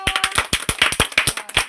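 Children clap hands together in a classroom: a brisk, regular series of sharp, loud claps, about a dozen in quick rhythm with no talking.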